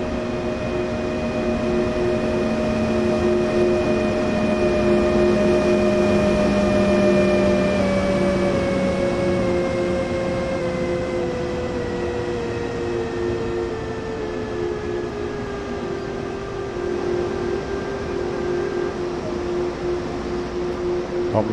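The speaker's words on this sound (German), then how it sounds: "Hier kommt mein Zug." A train in Train Sim World 2020 pulls into a station on the Main-Spessart line, its steady engine drone and whining tones gradually falling in pitch as it slows, continuous and close throughout.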